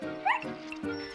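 A cartoon dog named Snuffy barking eagerly, two or three quick bright yips in short succession, close and lively.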